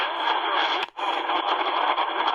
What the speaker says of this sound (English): I call this the graveyard part of the band, as you can hear a bunch of stations being broadcasted over each other.